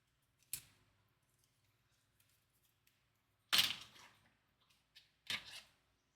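Tape pulled and torn from a roll in three short bursts, the first faint, the second loud and rasping, the third sharper, with quiet rustling between them.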